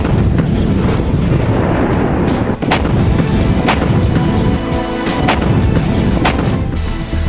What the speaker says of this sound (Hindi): जैसे ही इस गोले को टैंक में फिट किया गया, ये टैंक आग उगलने लगा